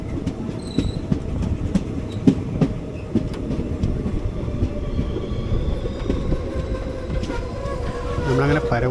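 Passenger train rolling towards Paravur station on the Kollam line, a steady loud rumble of wheels on rails with rhythmic clickety-clack and occasional squeal, close and continuous throughout.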